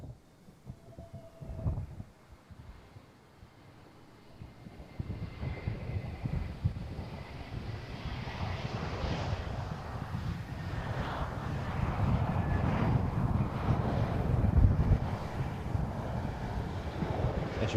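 An Aer Lingus airliner arrives at Amsterdam Schiphol on a windy day, its engine roar swelling from distant to loud and sustained, with wind buffeting the microphone.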